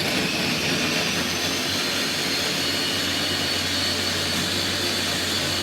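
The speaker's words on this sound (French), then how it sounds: "on va mixer les bananes" A kitchen blender whirs loud and steady as it purees bananas into liquid for cake batter, a continuous roar that cuts off abruptly at the end.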